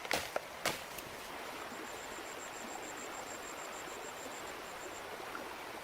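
Steady rush of cold mountain stream water flowing in humid jungle, a constant broadband wash with a few sharp chopping knocks at the start and a thin high whistle running through the middle.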